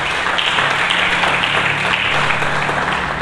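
A church congregation claps together during a sermon, a steady dense wash of applause that fills the whole clip at an even, fairly loud level.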